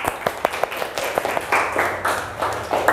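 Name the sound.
class clapping hands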